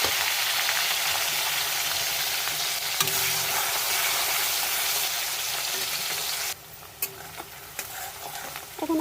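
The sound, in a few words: onions frying in oil for chicken biryani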